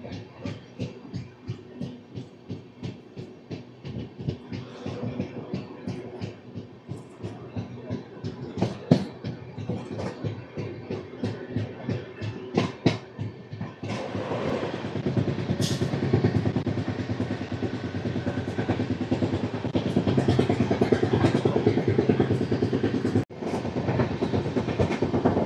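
The Tirupati AC Double Decker Express, train 22707 on the Visakhapatnam to Tirupati run, pulls out of Srikalahasti station with steady clickety-clack from the wheels that builds into a louder continuous rumble.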